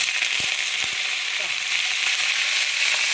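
Fenugreek, mustard seeds and onion sizzle hard in hot oil for a coconut-based fish curry, a loud continuous hiss with a couple of sharp crackles early on, close and steady.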